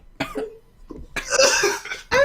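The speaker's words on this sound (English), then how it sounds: "I'm just coughing over my rulebook." A person coughs in a few rough bursts indoors during a tabletop roleplaying game session, close to the microphone, with short pauses between fits.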